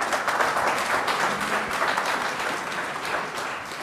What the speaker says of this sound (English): I already know some people will clap anything.